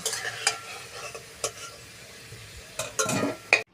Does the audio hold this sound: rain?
no